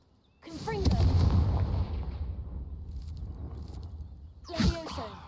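Confringo blasting spell cast in the video game Hogwarts Legacy: a loud booming blast with a crackling rumble that trails off, followed near the end by a second sharp burst.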